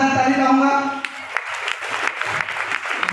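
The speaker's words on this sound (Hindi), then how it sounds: "लता पांडे की बार शानदार ताली चाहूंगा" Audience applause for Lata Pandey at an RCM success celebration in Kanker breaks out after a moment of sustained voice and tone, then continues as a steady, moderately loud clatter of many hands.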